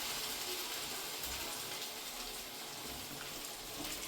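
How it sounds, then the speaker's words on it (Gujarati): Water poured from a vessel into a pan of green chilli curry cooking on the stove, a steady close splashing and trickling that runs for the whole few seconds with no talking. "ને થોડું પાણી નાખી જાય."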